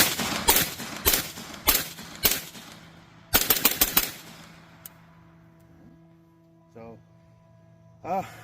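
A 300 Blackout rifle fires subsonic rounds at about 990 feet per second, loud sharp reports spaced at a slow, deliberate pace with one quick cluster, and a voice speaks briefly afterward.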